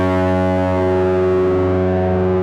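A low, sustained harp note from the harp's bass pickup pushed through a heavy distortion pedal, thick and buzzy with rich overtones, holding steady before cutting off.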